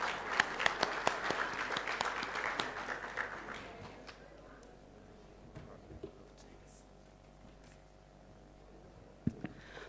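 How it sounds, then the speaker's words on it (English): An audience at a plenary conference session claps for the interpreters, a dense burst of applause that is loud at first, then thins and fades to scattered claps. "I wanted to give the interpreters a big round of"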